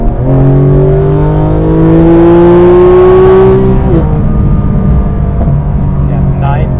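A Porsche GT3 991.2 engine roars at full throttle from the cabin, its loud, rising pitch sweeping steadily upward for about four seconds before a shift drops it and the howl continues.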